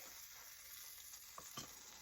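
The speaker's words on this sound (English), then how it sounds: "Ooh, it's sizzling too." Quiet, steady sizzling of food frying in a pan, with a couple of brief clinks or stirs near the end.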